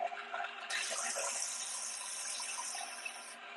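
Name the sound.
water being added to peanut butter mixture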